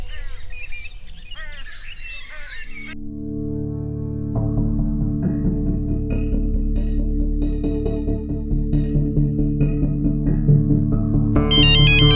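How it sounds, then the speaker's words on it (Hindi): A chirpy electronic mobile phone ringtone plays a bright repeating melody, loud and close, after a short burst of birdlike tones at the start, in a TV drama scene. "माँ, फोन आया है।"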